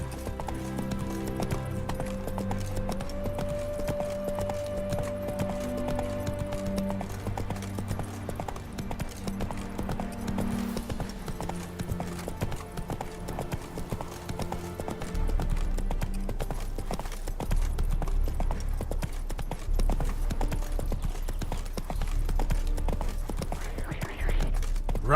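Roach the horse gallops in The Witcher 3, a steady run of hoof clip-clops under game music, with brief spoken lines from a character.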